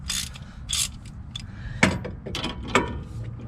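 Ratchet with a 19 mm socket clicking on a suspension bolt of a 2005–2010 Pontiac G6 during tie rod and stabilizer link work, with short bursts of rapid pawl clicks and a couple of sharper metallic clanks, close up.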